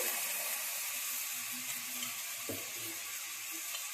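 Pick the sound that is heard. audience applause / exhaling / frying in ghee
frying in ghee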